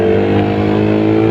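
A Suzuki Satria FU 150cc DOHC motorcycle engine revs loud and close, a dense, steady high-pitched buzz without talking.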